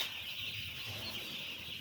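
Chickens cluck on a small poultry farm, a faint, steady murmur of birds at a distance with no talk over it.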